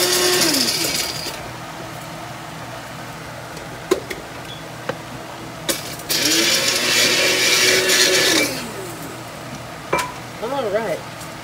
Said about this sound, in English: I'm going to grind this salt up.